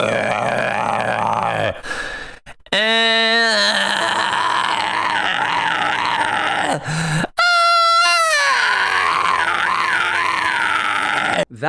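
A gritty false-chord tunnel throat scream, held in several long raspy bursts with wavering pitch, separated by brief pauses, loud and close.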